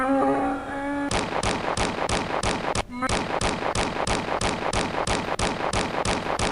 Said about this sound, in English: of course it explodes. It always explodes.